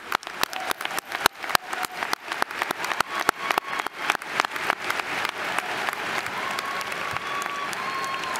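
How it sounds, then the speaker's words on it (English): A graduation crowd at the UCF Spring 2024 commencement claps in a long, dense round of applause that stays steady and loud throughout, with a few sharper claps standing out near the front. "Let's give them a round of applause"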